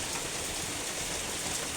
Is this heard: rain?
yes